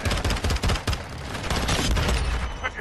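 Burst fire from an MP7 submachine gun in a video game, loud rapid volleys of shots in quick clusters with booming reports, filling the whole moment without talk.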